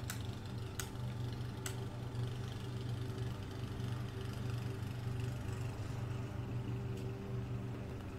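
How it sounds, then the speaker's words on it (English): A clunky lawnmower engine in the video game Yooka-Laylee chugs and idles steadily at a low pitch, with a few sharp clicks near the start, and no one speaks. "He's got a really clunky sounding lawnmower."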